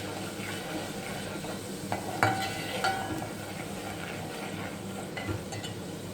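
Ginger, garlic and cumin frying in a pan for a chicken curry, a soft continuous sizzle broken by a few spoon scrapes and light clinks against the pan, fairly quiet and close, with nobody speaking.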